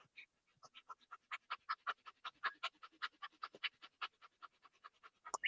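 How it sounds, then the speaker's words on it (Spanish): Rapid fire breathing, a person inhaling and exhaling as fast as possible in a steady quick rhythm of short, sharp breaths, close and clear against a quiet background. "inhalando y exhalando lo más rápido que pueda, como si fuera respiración de fuego"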